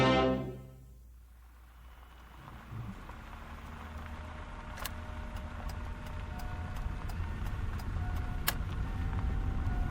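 A car driving in a radio drama, a steady low engine and road rumble that fades in after an opening tone and continues under a few light clicks and taps.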